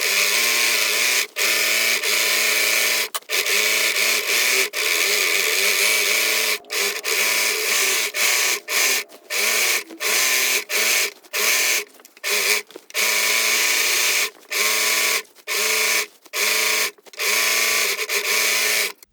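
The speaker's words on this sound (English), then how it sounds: "The only seams I need to overlock are the side seams on the skirt and the hem." An overlocker sews the side seams of a simple sun dress skirt in repeated loud, steady whirring bursts separated by short pauses, the stops and starts growing more frequent toward the end.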